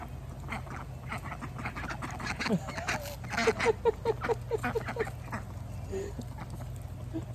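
Ducks quack in a quick rhythmic run of calls close by, with scattered rustling and other bird sounds around them.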